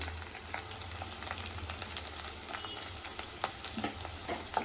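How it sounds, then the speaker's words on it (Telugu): Thinly sliced green chillies fry with onions in a pan, making a steady close sizzle. Occasional sharp clicks and scrapes of stirring cut through the sizzle, with no voices. "ఇవి కూడా ఒక టూ మినిట్స్ అలా ఫ్రై చేసుకొని"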